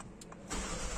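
A Mini John Cooper Works F56 LCI II engine cranks and catches with the door open, jumping from a quiet hum into a loud, steady idle after a few short whirs.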